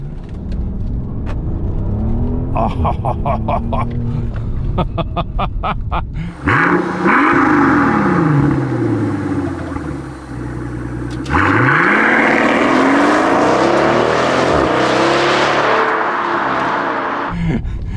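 A Mercedes S65 AMG V12 engine revs several times, then roars as the car accelerates hard through the gears, loud and close.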